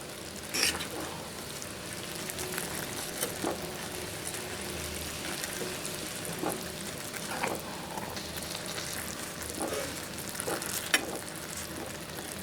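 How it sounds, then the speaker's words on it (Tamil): Semiya vermicelli simmering in salted water in a pan, giving a steady soft bubbling and sizzling texture with occasional clinks of stirring, fairly quiet and continuous with no talk. "இப்போ சேமியா நல்லா வெந்துட்டு இருக்குது."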